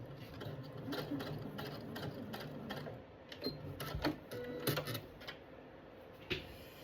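A sewing machine runs in bursts while stitching quilting fabric, a close mechanical whir broken by brief pauses and small clicks of handling, with no voices.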